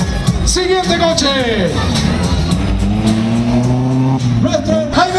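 Rally car engine revving at the start of Rally Jauja 2012, a loud rising and falling rev near the crowd, with an announcer talking and crowd babble underneath.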